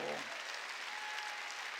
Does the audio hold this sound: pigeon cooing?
no